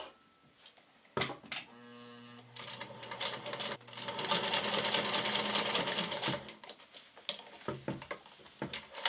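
Sewing machine stitching a curved hem on fabric, running in several bursts of steady mechanical whirring with pauses and handling noises between, close and moderately loud.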